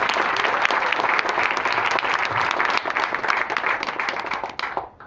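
Audience applause at a Nexmoney training event in Delhi, a dense, steady round of clapping that carries on for several seconds and then tapers off near the end.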